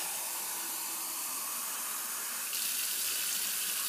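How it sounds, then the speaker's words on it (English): Hot water runs steadily from a tap into a sink, a close, even hiss of flow that gets slightly brighter partway through, with no talking. "So just gonna get a little hot water here, and we'll get started."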